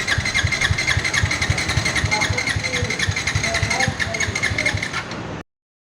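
A motorcycle engine with failing compression, which had begun making a strange noise, cranks over and over without starting, giving a steady rapid mechanical pulsing for about five seconds before it abruptly stops.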